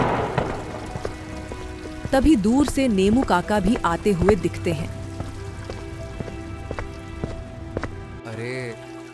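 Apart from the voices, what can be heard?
heavy rain on a stormy night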